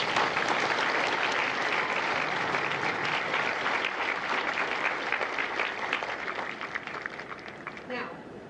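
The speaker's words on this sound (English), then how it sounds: "Please join me in a round of applause to acknowledge everything you have done for these Marines." A large crowd at a Marine recruit graduation in San Diego claps in sustained, dense applause that fades slightly toward the end.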